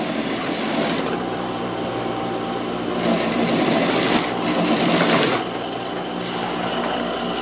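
Sewing machine running continuously while stitching the front neckline of a child's dress, a fast steady mechanical whir that briefly speeds up near the middle, close and alone.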